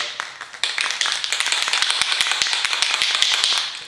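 Rapid rattling clicks of a spray paint can being shaken before painting a motorcycle's upper triple clamp, a quick steady rhythm close by, going on for several seconds.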